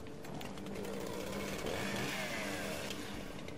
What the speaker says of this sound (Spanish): Taladro industrial.